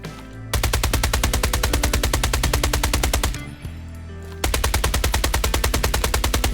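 An automatic gun loaded with 60 rounds fires long rapid bursts, loud and close, with evenly spaced shots, a brief pause, then another sustained burst.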